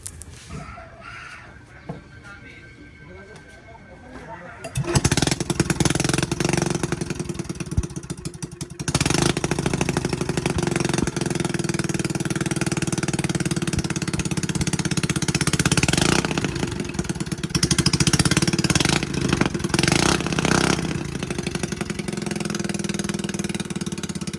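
A repaired engine on a bangka, a small boat being readied for sale, starts up after a few quieter seconds and then runs loud and steady at close range with a constant droning rumble.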